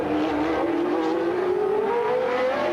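1981 Formula 1 race cars at the US West Grand Prix, one loud engine whining steadily upward in pitch as it accelerates, with a dense mechanical roar and no talk.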